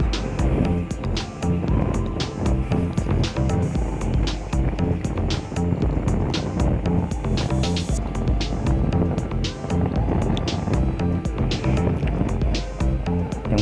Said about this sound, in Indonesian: Ini kendaraan roda 2 semuanya, ini seperti motor patroli juga